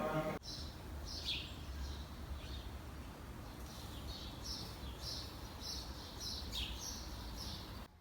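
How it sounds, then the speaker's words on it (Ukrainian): Faint birdsong outdoors in the old downtown of Amman, scattered chirps and short whistled phrases repeating over a soft steady background hiss. "Ви тільки послухайте, як співають пташки."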